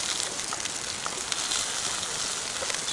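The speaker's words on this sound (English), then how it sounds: "now it's starting to rain" Rain falls steadily at a camp during outdoor cooking, a dense even hiss of drops with a few louder taps, continuous throughout with no voices.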